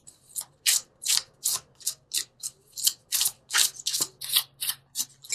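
A deck of angel cards being shuffled, giving a steady run of about fifteen crisp papery riffles close up, with no talking over it.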